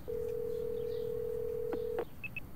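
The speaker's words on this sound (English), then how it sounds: "I found it in my phone. Give it a call." A phone number is dialed on a telephone: one long steady tone runs for about two seconds, followed by a couple of short dialing beeps against a faint background hum.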